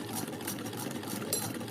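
Sewing machine stitching fabric fed against a tape seam guide, a steady, fast mechanical whirr with rapid needle chatter, close and continuous.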